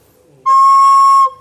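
A recorder blown too hard gives a shrill, piercing note that jumps above the intended pitch. It is held steadily for under a second, loud and close, with nothing else sounding.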